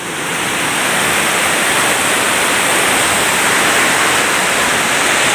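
Rainwater floodwater rushes through a street in Malakpet during heavy rain, a dense, loud, continuous roar of churning water close by with no talking.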